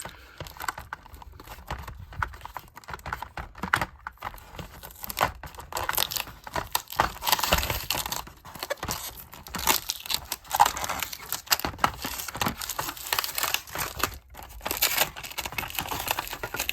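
Tape being peeled and pulled off plastic toy packaging for a Disney Cars 2025 Cruisin' Through Radiator Springs 5-pack, heard as repeated close crinkling, tearing rips and crackles in uneven bursts, with no talking.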